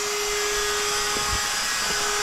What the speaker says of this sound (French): Un petit compresseur.